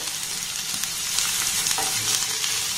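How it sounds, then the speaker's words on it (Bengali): Onions and a green chilli frying in hot oil make a loud, dense, continuous sizzle with faint crackles, steady and close throughout, with no speech. "পেঁয়াজটাকে একটু হালকা আমি লাল লাল করে ভেজে নেব"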